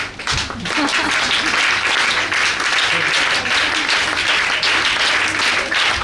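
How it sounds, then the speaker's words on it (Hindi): Loud, steady applause from a crowd, many hands clapping continuously without a break. "डाल लो अपनी तालियां धीमी धीमी"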